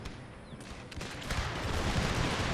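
Musket fire in the strategy game Empire Total War, during the Battle of Poltava: scattered distant volleys that thicken into a rolling crackle of many muskets, moderately faint, with no speech.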